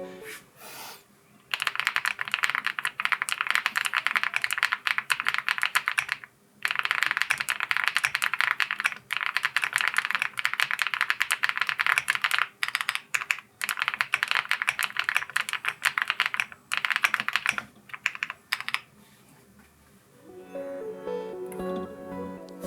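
Rapid, continuous clacking of keys being typed on a cream aluminum-cased Rainy75 mechanical keyboard, close up, with a brief pause midway before tapering off.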